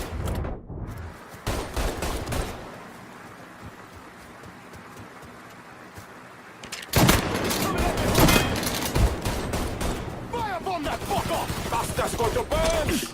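Video game gunfire in Mafia 3, with dense overlapping shots and rapid fusillades, loud and close, coming in bursts with a quieter pause in the middle and shouting voices throughout.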